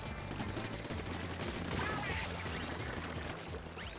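Rapid, rhythmic firing of an N-Zap '85 ink gun in Splatoon 3, a fast repeating stream of shots running steadily under a speaking voice.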